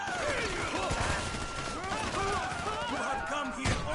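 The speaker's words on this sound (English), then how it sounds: "I deduce from the sound of gunfire that you have not gone for the stealthy approach" Rapid bursts of gunfire during the Perico heist in Payday 2, dense and continuous with overlapping shots and scattered sharp cracks, set against busy game sound effects.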